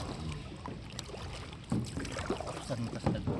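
A small boat is paddled off Daanbantayan, Cebu, with uneven splashing strokes and water sloshing near the microphone, wind buffeting in the background, and people talking faintly now and then.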